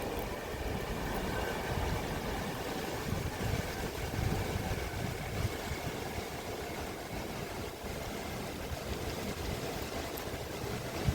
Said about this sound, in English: that is blowing a gale